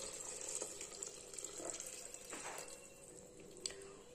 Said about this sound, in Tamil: இதில் தண்ணி சேர்த்துக்கலாம்.